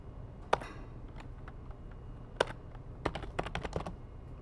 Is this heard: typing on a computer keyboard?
yes